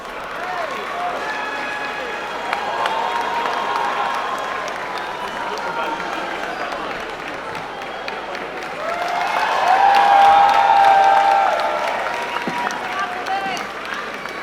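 Crowd applause and cheering at an evening event honoring a young artist, steady clapping running under a speaking voice and rising to a louder peak with whoops partway through.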